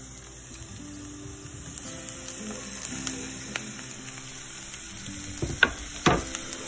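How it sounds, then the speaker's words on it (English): Onions and mushrooms fry in olive oil in a cast iron skillet, giving a steady low sizzle with occasional scrapes and a couple of louder clatters near the end. "the mushrooms are added into the skillet"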